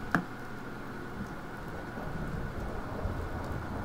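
Thunderstorm in the video game Fallout 4: steady, soft rain hiss fills the scene, with a low thunder rumble rolling underneath and one brief sharp crack near the start, no voices.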